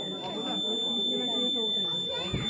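A school science-exhibition rain alarm system sounds its electronic buzzer, a steady high-pitched tone running under close conversational voices in a busy room.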